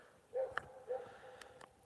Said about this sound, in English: There's some dogs barking,